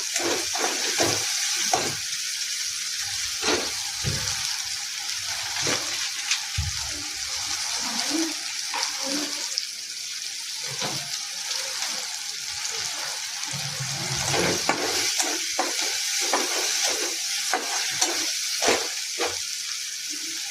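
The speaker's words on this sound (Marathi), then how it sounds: "असंच भाजून घ्यायचा" Ginger and garlic roasting in a pan, a soft continuous sizzle with frequent spoon scrapes and clinks against the metal, fairly close and moderately quiet.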